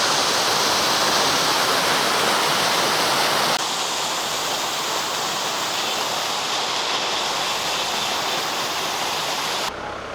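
Waterfall at Rock Garden in the hills of Darjeeling, a loud, continuous rushing roar of falling water that holds steady throughout with no voices.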